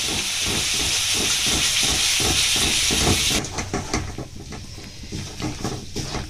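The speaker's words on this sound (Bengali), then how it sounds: "এটা ভালোভাবে তেলে নেড়ে নেব।" Ginger and green chilli sizzling loudly in hot oil as they are stirred, a dense steady hiss that suddenly drops to softer crackling with rhythmic scraping strokes of the spoon.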